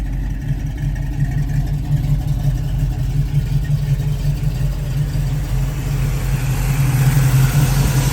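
A 1966 Chevrolet Nova with an aftermarket cam idles loudly and close by, its steady lumpy rumble rising slightly toward the end, with no talking over it.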